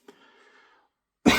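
A single short cough at the start trails into a faint rasp, then a loud burst of noise cuts in at the end.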